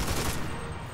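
Rapid machine gun fire from a World War II video game rattles in a dense, continuous burst, loud and close, without talk over it.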